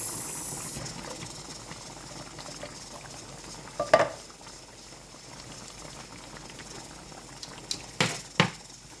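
Curry chicken stew simmering in a pot, a soft, steady bubbling that runs throughout, with a couple of brief clicks or knocks partway through and near the end.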